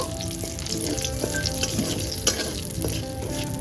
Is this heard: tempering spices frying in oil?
yes